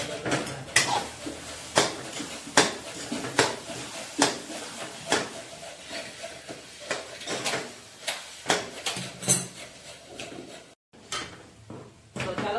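A utensil clanks and scrapes against a metal pan in a quick, repeated stirring rhythm, close and fairly loud, while eggplant is mixed into a tempered potato curry.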